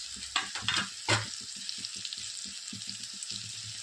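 Ground coriander, turmeric and other spices hit a hot pan and sizzle loudly with a few sharp bursts, then settle into a steady crackle as they are stirred.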